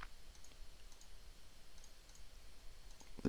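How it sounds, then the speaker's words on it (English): A single computer mouse click lands near the end of a very quiet stretch, faint and close, while someone works in Rhino rendering software. No one speaks. "click on this"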